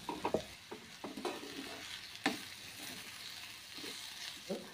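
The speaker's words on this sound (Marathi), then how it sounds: "तर छानपैकी आता परतून घेऊया आपण" Torn chapati pieces are stirred in a hot pan with salt, with scattered scraping and clinking strokes over a faint sizzle, fairly quiet and close, with no voices.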